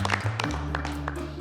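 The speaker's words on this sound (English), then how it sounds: "Round of applause for Mary" A studio audience on MasterChef Australia breaks into brief applause, a short burst of dense clapping with a low musical tone running underneath.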